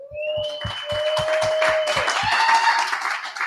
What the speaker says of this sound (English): Let's give a big round of applause first